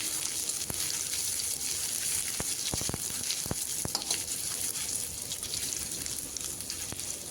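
Spices with bay leaves and crushed ginger frying in oil in a pan: a steady, close sizzle throughout, punctuated by a few sharp clicks and taps from stirring, with no talking.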